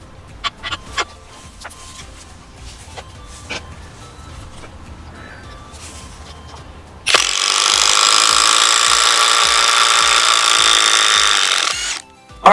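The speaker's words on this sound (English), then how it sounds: "now we're going to use a Mellif compact impact driver to screw in a 6-inch screw" A Mellif 20V brushless compact impact driver drives a 6-inch screw. After a few quiet knocks and handling sounds, a loud, close, steady hammering whir runs about five seconds and then stops abruptly.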